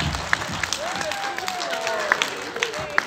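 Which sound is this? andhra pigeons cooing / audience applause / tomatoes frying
audience applause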